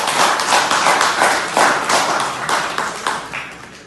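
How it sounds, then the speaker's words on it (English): Loud, close clapping from a gathered group at a community celebration, with distinct sharp hand claps pulsing through a steady ovation that tapers slightly near the end. "A big round of applause to you all"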